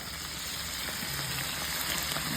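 Leftover spicy Spanish pasta hisses and sizzles steadily in a hot frying pan, a loud, close, continuous crackle with no voices over it.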